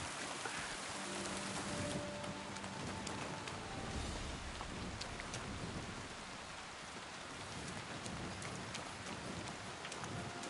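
Steady rain pours down in the medieval world of Kingdom Come: Deliverance II, a dense continuous hiss of drops on surfaces with a faint low rumble beneath, holding evenly throughout.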